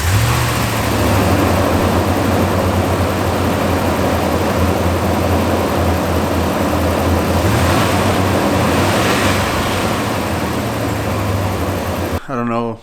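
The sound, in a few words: Dodge Ram 1500 engine running and idling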